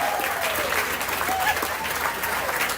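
An audience at a county fair mutton bustin' event applauds in a dense, sustained wash of clapping, with a few faint voices and whistles mixed in.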